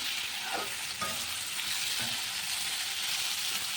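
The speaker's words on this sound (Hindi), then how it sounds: "इसे हल्का सा फ्राई कर लेती हूँ, हल्का सा फ्राई करके 2 मिनट हल्का सा फ्राई करना है।" Food lightly frying in a pan gives a steady, close sizzle, with a few soft stirring scrapes near the start and no voices.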